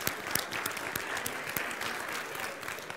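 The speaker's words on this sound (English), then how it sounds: "Give yourself a round of applause." Group applause right after a line dance called the South Elkhorn Shuffle, with dense, steady clapping and a few sharper individual claps, sustained at an even level for the whole stretch with no talking over it.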